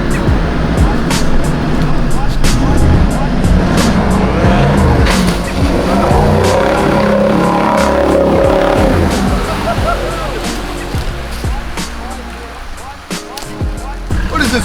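Off-road four-wheel drives plough through stagnant bog water on a Scenic Rim, Queensland trail, engines revving loudly amid splashing and sloshing, with people talking and exclaiming throughout.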